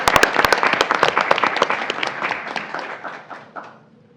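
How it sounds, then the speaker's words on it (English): Audience applause at a school board meeting honoring a vocational senior of the month, a burst of many hands clapping with sharp close claps up front, gradually thinning and fading out over about four seconds. "Round of applause for his family up there."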